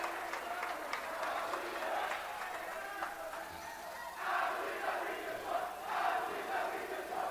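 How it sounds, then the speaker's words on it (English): A high school girls' basketball crowd in a gym rises and cheers in late-game tension, a distant roar of voices that swells in waves, with faint squeaks and calls. "That brings the crowd to their feet here for the Huskies."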